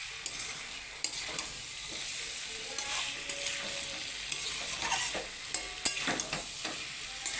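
Yogurt jackfruit curry being stirred and sautéed in a pan, a continuous close sizzle and frying hiss with intermittent scraping and knocks of a spatula against the pan.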